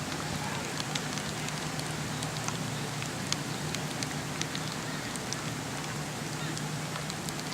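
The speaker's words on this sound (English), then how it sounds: "hope this rain doesn't ruin my Angora rabbit hair hat." Rain falling at an outdoor kickball league game, a steady wash of patter with scattered sharper drops on surfaces, moderately loud and continuous throughout with no talking.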